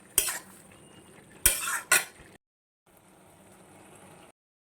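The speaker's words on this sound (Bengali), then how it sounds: "এবার যেটা নেড়ে চেড়ে নেবো" A spoon clatters and scrapes against a pot of mashed boiled potatoes being stirred for Bengali aloo bati, in three sharp bursts followed by softer, quieter stirring.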